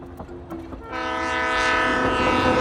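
A passing train sounds its horn: after a quiet second, a loud, sustained, chord-like blast rises and holds over heavy rail rumble until the end.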